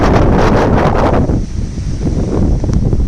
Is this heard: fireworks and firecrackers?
no